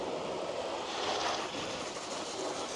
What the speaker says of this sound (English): I'm just rinsing this off before I go any further because it's starting to dry